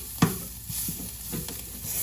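Chopped meat sizzling in a pan with a bit of sauce, a soft steady frying hiss broken by a few short scraping stirs.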